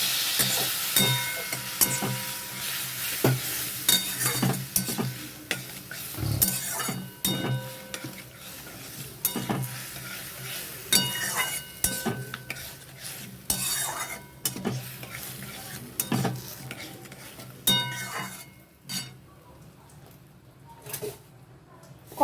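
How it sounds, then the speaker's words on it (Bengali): Spice paste stir-fried with a little water in a pan, repeated scraping stirs and clinks of a spoon over a soft sizzle, irregular and close, fading toward the end. "একটু জল দিয়ে মশলাটাকে কষতে থাকবো।"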